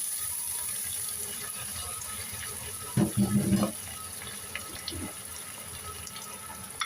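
Water is poured into a pan while cooking a stir-fry, a short splashing gush close by for under a second, then a few faint trickles over a quiet kitchen background.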